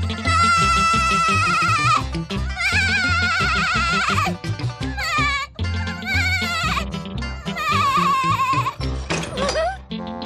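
Loud, drawn-out goat bleats repeat one after another with wavering pitch, close and dominant, with short pauses between calls.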